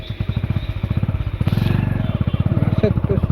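A motorcycle engine chugs with a steady, rapid rhythmic pulse as the bike rides along after rain, close and fairly loud, its beat quickening slightly midway.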